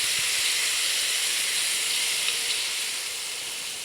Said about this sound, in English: very carefully add the tomatoes, because there's liquid, it can really sizzle